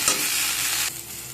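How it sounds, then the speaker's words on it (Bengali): Cut radish and eggplant frying in oil with panch phoron as they are stirred, a loud close hiss and scrape that drops abruptly quieter near the end, no talking. "এখন এর মধ্যে কেটে রাখা মূলো আর বেগুনটা দিয়ে দিলাম। সব কিছুকে ভালো করে নেড়ে নেব।"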